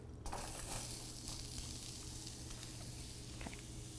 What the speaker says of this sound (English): Once the pan's heated a little bit, go ahead and start with a little bit of oil. And I've got one yellow onion chopped here.